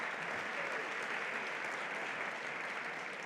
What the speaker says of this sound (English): Let's give you all a round of applause for being here tonight with us